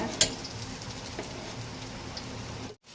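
Curry leaves, onion and green chili frying in hot oil for kothu parotta give a steady, close crackling sizzle like light rain, with one sharp pop near the start and a brief drop-out at the end.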